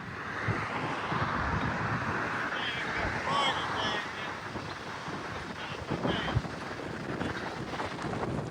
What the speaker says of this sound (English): wind is really blowing